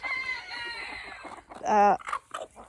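A Polish chicken gives a short, loud, nasal cluck partway through. Softer clucks and calls come before and after it.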